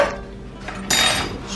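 Vegan meatloaf mixture being moved into a meatloaf tin, with a clunk and scrape of utensil against the dish followed by a louder burst of scraping, close and brief.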